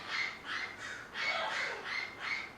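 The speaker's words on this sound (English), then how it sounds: "I wish I could edit all these bird noises out" Birds squawk outdoors in a rapid series of about eight harsh, fairly faint calls in quick, irregular bursts, with no talk.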